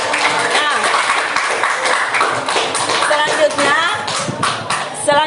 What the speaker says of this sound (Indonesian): mari kita aplaus untuk semuanya